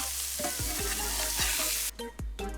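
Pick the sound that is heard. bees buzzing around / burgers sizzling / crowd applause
burgers sizzling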